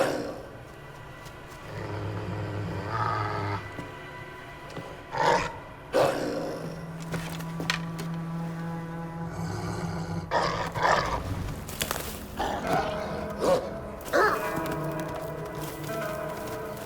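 A wolf pup snarls in the PC game Assassin's Creed Valhalla, giving low growls and roar-like bursts over sustained game music, with sharp impact sounds scattered through.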